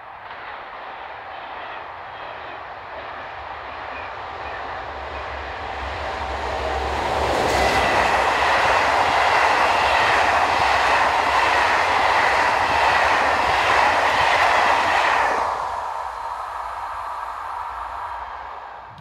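An SNCF BB15000 electric locomotive train approaching Motteville on the Rouen to Le Havre line, a rising rumble and roar of wheels and motors that swells loud as it passes, then cuts off sharply and fades.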